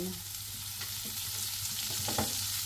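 Garlic hits hot oil in a pan, giving a steady close sizzle with a few sharp clatters and stirring scrapes near the end, no voices.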